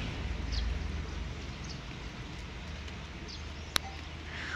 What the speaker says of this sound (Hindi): ये लग गई है बारिश, बूंदाबांदी